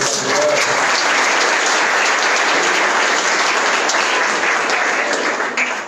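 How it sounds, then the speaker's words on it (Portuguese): A symposium audience in Araras, São Paulo, breaks into loud, sustained applause, a dense steady clapping that fills the room without pause. "Uma grande salva de palmas novamente."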